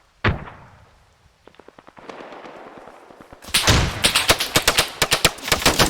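Gunfire and a grenade blast in the military shooter ARMA 3: a sharp opening report, a run of rapid distant shots, then from midway a loud, dense barrage of heavy blasts and bursts.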